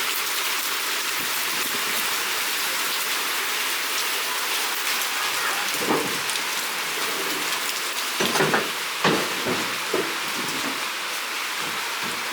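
Steady rain hiss falls throughout, with scattered louder drops and splashes near the end, no voices over it.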